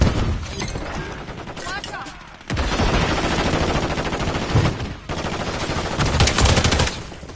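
Dense automatic gunfire in a Warzone Resurgence match rattles in loud sustained bursts with glassy impacts, close and continuous, while players talk over it.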